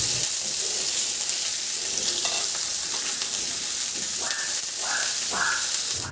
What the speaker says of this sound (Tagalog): Igisa ko na rin yung sibuyas.